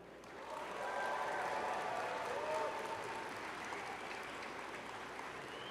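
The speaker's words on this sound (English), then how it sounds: "I invite the members of the graduating class to reciprocate by applauding your family, friends, faculty, staff, indeed all of those who helped you to reach your goal." Graduating class applauding families, friends, faculty and staff at a university spring convocation ceremony, a broad sustained wash of clapping from a large hall audience, heard at a distance and swelling after a brief start.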